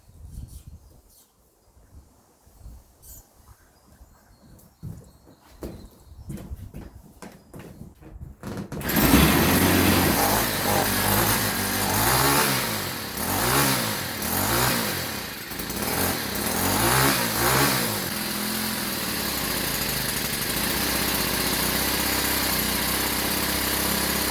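A Yard Machine string trimmer, made by Troy-Bilt and fitted with a new primer pump, is pulled over with a few quiet tugs before its small two-stroke engine catches and runs loud, revving up and down in repeated surges and then holding a steady, buzzing idle.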